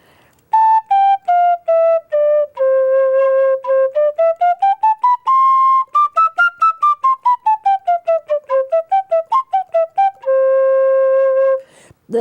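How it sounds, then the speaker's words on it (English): A wooden plugged fipple penny whistle with a soft tone plays a continuous melody of clear held and tongued notes, loud and close, with no other sound. "It's called a wooden plugged fipple instrument. So it plays the same as the other penny whistles."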